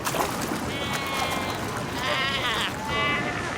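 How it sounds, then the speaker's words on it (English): Cape fur seals call across a crowded beach, a dense chorus of overlapping bleating, honking cries from many animals at close to middle distance, forming a loud, continuous din. "Cape fur seals."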